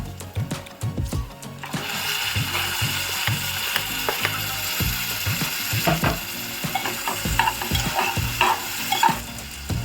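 Tomatoes added to frying onion in hot oil for a Maharashtrian baingan bharta, giving a steady close sizzle broken by repeated scraping and clattering stirs of a spoon against the pan.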